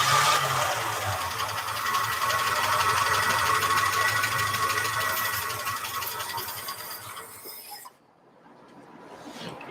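A 1949 Studebaker Champion engine runs on fuel sprayed by hand into the intake, a fast busy mechanical chatter that holds for several seconds and then dies away into near quiet with a faint stir after.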